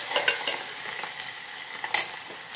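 Curry leaves, chopped ginger and chili frying in a pan are stirred with a spoon, giving a close, bright sizzle with quick scraping strokes and a louder clatter near the end; no talking.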